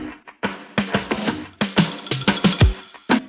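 A low-passed drum loop whose filter gradually opens, heard alone: muffled, resonant kick and percussion hits that grow brighter and more present over a few seconds, ending with crisp, full-range hits.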